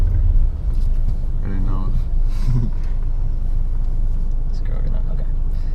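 A manual-transmission VW Bug drives along with a steady, close, low engine rumble, and people speak briefly over it.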